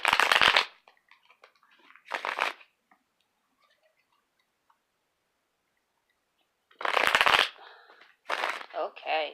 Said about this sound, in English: So just going to shuffle a couple of times.